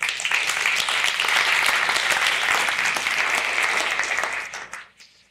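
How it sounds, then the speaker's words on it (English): Seminar audience gives a sustained round of dense clapping in a room, loud and even, then fading out quickly at the end. "so give them all a round of applause"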